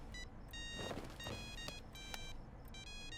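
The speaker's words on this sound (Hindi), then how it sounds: "गीता अभी मुझे क्यों फोन कर रही है?" A phone rings indoors with repeated electronic tonal bursts in short groups, clear and fairly close, with no talk over it.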